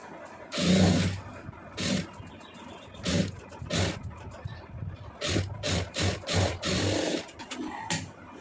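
Domestic sewing machine stitching the lining around a boat neckline, running in several short bursts of rapid mechanical whirring separated by brief pauses, close and fairly loud.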